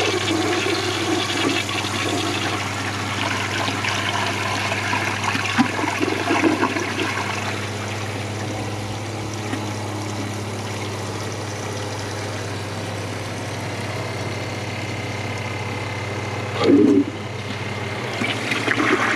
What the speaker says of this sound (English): But let's give it a flush.